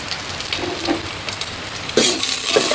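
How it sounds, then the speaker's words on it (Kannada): Green chillies, ginger, curry leaves and a cut Byadagi chilli fry in hot oil in a pan with a close, crackling sizzle, stirred now and then and turning noticeably louder partway through. "ಇನ್ನಿಷ್ಟನ್ನ ಚೆನ್ನಾಗಿ ಫ್ರೈ ಮಾಡ್ಕೋಬೇಕು"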